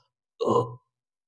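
A single short burp-like grunt, close and alone against silence, voiced as an imitation.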